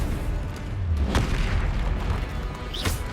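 Confringo spell blasts in the Hogwarts Legacy video game: a loud, continuous rumble of booming explosions with a couple of sharper bursts cutting through, no voices.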